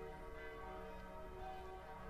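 Bells ring in the Brytenwalda video game, a faint, sustained, droning peal that holds steady and distant for a couple of seconds, with no talking.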